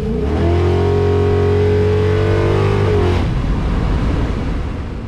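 A carbureted car engine fitted with a Holley 4150 carburetor revs hard in second gear as the throttle is stabbed, a loud, rising roar that holds for a few seconds and then drops sharply as the throttle is released, close and without talk.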